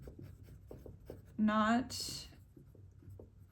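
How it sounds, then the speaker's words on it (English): A pencil scratching quickly across paper in light, rapid strokes, close and fairly quiet, briefly interrupted by a spoken word. "I just let my hand and my pencil do my own thing."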